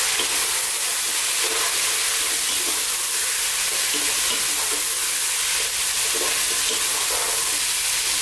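Vegetables and noodles stir-fry in a hot pan with dark soy sauce, giving a loud, constant sizzle with scraping and tossing sounds mixed in throughout.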